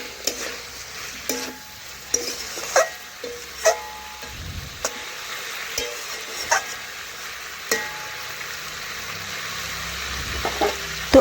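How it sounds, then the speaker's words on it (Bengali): Vegetables fry in a pan with a steady sizzle while a spatula stirs them, scraping and knocking against the pan at irregular intervals throughout. "এখন আবারও কিছুক্ষণ আমি এইভাবে নাড়াচাড়া করে নিচ্ছি।"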